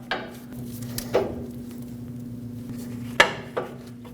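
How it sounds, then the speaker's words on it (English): A metal sway bar link for a Nissan Frontier clinks and taps against metal parts as it is handled and lined up, a few sharp, close knocks over a low steady hum. "Take the new sway bar link and line it up."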